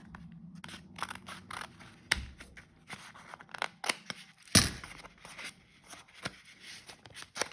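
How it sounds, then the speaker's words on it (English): Scissors snip through a paper envelope in a series of close, crisp cuts with irregular pauses and one sharper louder snip midway, with light paper rustling between cuts and no talk. "and then you're going to cut the top."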